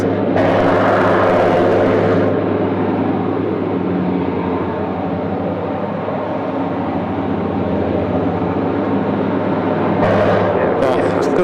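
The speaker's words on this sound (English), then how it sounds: "Jetstar 224 just arriving from Queenstown there on runway 34 right" A Jetstar airliner arrives on runway 34 right at Sydney Airport, its engines a loud, continuous roar with a steady low drone that holds throughout, swelling slightly near the start and end.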